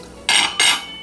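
A spoon scooping cornstarch out of a container in a home kitchen, two quick scraping, crunchy scoops close up, each about a third of a second, with near silence around them.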